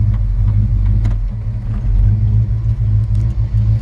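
A 1955 Chevrolet Handyman Wagon's engine rumbles close and loud through its exhaust, a deep steady idle with small pulsing dips and surges and no talking.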